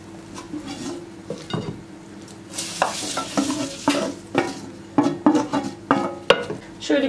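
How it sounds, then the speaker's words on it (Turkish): Melted butter poured into a pot of drained pasta, then stirring scrapes and clinks of a utensil against metal, with soft sizzling underneath, close and fairly loud. "Şöyle erittiğim tereyağını döküyorum."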